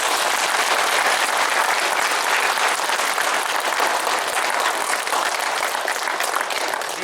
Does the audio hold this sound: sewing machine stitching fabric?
no